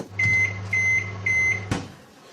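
A kitchen timer pinger rings three times in a steady pattern, each a bright sustained tone with a low hum beneath, followed by a sharp clunk near the end, close and fairly loud with no talk.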